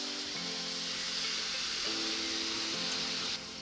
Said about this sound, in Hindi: ऑयल हमारा अच्छे से गर्म हो गया तो इसके अंदर हम जलेबियाँ डालेंगे